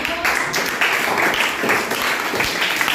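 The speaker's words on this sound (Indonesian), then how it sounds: "Oke, tepuk tangan" Classroom applause during a lesson on Archimedes' law: a short, dense burst of many hands clapping together, fairly loud and steady throughout.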